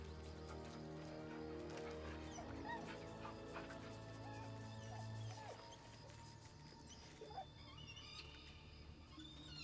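A dog in Baldur's Gate 3 whimpers and yips softly while being petted, heard over a steady bed of game music.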